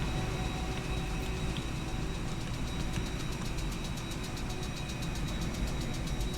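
A fuel truck engine idles steadily beside an A320 at Edinburgh in a flight simulator game, a constant, loud, low rumble with a faint ticking pattern and no talk.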